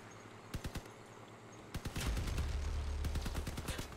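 Bursts of gunfire in the vehicle combat game Crossout, a few sharp separate shots first, then dense rapid automatic firing over a low rumble, loud and close.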